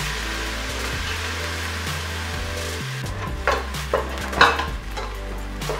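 Onions and garlic fry in a pan with a steady close sizzle while a utensil scrapes and knocks against the pan several times, with no talk.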